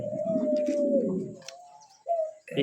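A pigeon at a pigeon seller's coos close by, one long, deep throaty coo followed by a shorter one, with faint chirps behind.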